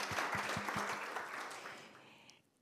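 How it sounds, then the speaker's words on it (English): A summit audience applauds a sponsor, dense clapping filling the room for about two seconds before tapering off to silence. "Please give a special round of applause for Notified and for all of their work"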